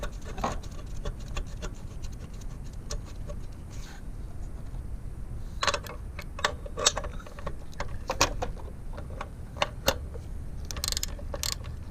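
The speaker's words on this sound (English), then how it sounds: "Tighten the stay bolts." A ratchet tightens the stay bolts on a Mitsubishi 3000GT engine during a coil and spark plug job, giving a run of quick metallic clicks and scraping bursts close by, more intense in the second half.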